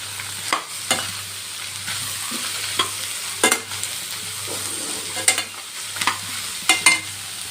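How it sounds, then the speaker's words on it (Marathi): Chopped pumpkin is tossed and sauteed in a pan, a low sizzle punctuated by distinct spatula scrapes and knocks against the pan at irregular intervals, close by and with no speech. "कद्दू मी टाकून घेतलाय त्याला खालीवरी करायचं आणि चांगलं असं परतवून घ्यायचं"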